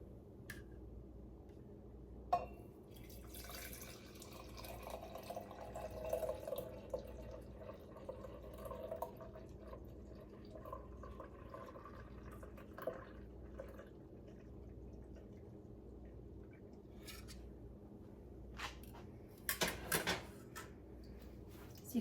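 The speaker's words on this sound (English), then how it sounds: "I'm going to go ahead and fill the jars." Melted homemade ghee pours through a strainer into glass jars, giving soft, steady trickling and dripping with a few small knocks and clinks, fairly quiet and without talk.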